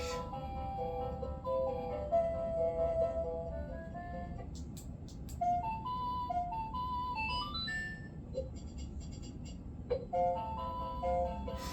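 A tinny electronic rendition of the Lost Woods music from The Legend of Zelda plays in simple chiming notes from a resin statue's small speaker, like a music-box tune, over a steady low background hum.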